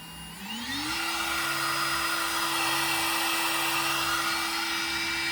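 A 1.5kW CNC spindle rated for 24,000 RPM ramps up to 20,000 RPM, its whine rising in pitch over the first second then holding a steady, sustained high tone at moderate loudness.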